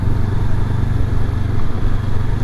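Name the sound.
2023 Honda CB500X motorcycle engine while riding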